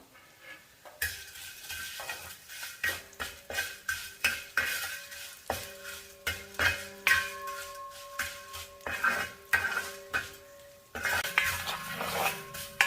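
Vermicelli roasted in hot ghee in a pan for carrot semiya payasam: repeated metal spoon scrapes and clinks against the pan over a soft sizzle, close and rhythmic, with no talk.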